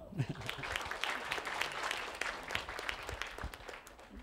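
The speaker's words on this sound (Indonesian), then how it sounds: "Tepuk tangan dong." Audience at a talk show event claps for a guest, a moderate, fairly quiet patter of hands with faint voices underneath.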